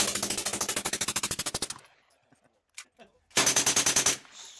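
Two rapid bursts of automatic gunfire at an outdoor shooting range around New Year's, likely from a DPMS 16-inch A4 rifle: a long loud string of evenly spaced shots, a brief pause with a few faint clicks, then a second quick burst.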